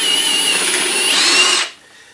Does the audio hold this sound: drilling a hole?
yes